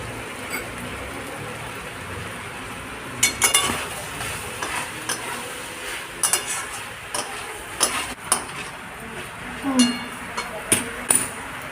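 Chickpea ghugni being stirred with Kashmiri chilli powder in a pan: a soft sizzle under irregular scraping clinks of a spoon against metal, some in quick clusters, moderately close.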